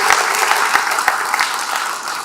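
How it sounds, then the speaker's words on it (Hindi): An audience at an Indian government event on small-business funding breaks into applause, a dense, steady patter of many hands clapping at close range for a couple of seconds. "जोरदार ताली बजाओ भाई"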